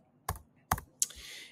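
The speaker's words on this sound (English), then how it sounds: "And then I can type in live calls." Three separate, crisp keystrokes on a computer keyboard, spaced about half a second apart in a quiet room, each one short and close.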